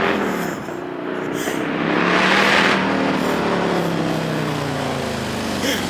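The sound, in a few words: Harley-Davidson Road Glide motorcycle engine revving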